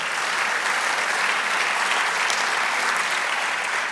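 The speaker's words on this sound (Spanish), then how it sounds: "Denle otro aplauso al Señor" A church congregation claps together in steady, dense applause during a Spanish-language sermon, sustained and fairly loud throughout with no pauses.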